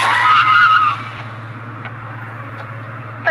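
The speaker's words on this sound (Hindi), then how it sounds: "और अचानक जीत ने गाड़ी के ब्रेक्स मारे" A car brakes hard with a sharp tire skid squeal lasting about a second, followed by a quieter rumbling tail under a steady low hum, used as a story sound effect.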